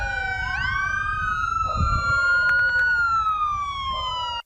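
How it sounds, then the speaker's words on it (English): Loud wailing sirens from emergency vehicles in Odessa, Texas, several overlapping tones rising and falling steadily, close and continuous with a low engine rumble underneath. "the sounds of sirens neared her streets."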